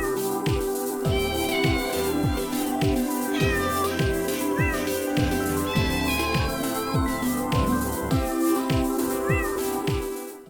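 Hazel, a chunky cat with white sock-like paws, lets out several drawn-out meows close up over a loud, steady rhythmic music bed, with no one speaking.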